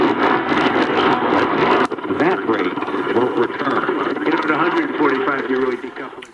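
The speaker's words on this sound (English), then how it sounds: "I think this is 1060. It sounds kind of like fluttering." Sony ICF-506 AM radio tuned to AM 1060 in the evening near Chicago, a broadcast voice and music buried in a loud, wavering, fluttering signal with a brief dropout early on.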